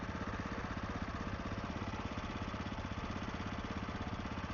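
The single-cylinder 600 cc engine of an SWM Superdual T motorcycle runs steadily, a loud continuous thumping drone with a rapid even pulse, close to the microphone and without talking.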